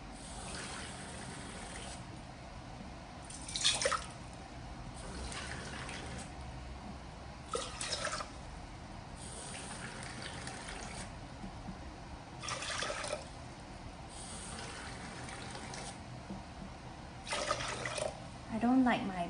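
Water poured into a double-boiling pot while making bird's nest soup, coming in several separate splashing bursts a few seconds apart over a low, steady background hiss.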